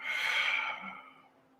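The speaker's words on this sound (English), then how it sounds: "Let all of that out, exhaling omnidirectionally." A person releases one long, deep exhalation, a breathy rush that starts strong and fades away over about a second, close and alone in a quiet space.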